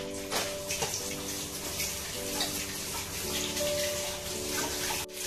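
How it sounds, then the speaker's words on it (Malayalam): Cold water poured over drained, cooked rice for fried rice: a steady, continuous splashing pour lasting several seconds, moderately loud and alone. "ഇനി ഇതിൻ്റെ മുകളിലേക്ക് നമുക്ക് കുറച്ച് തണുത്ത വെള്ളം ഒഴിച്ചു കൊടുക്കാം."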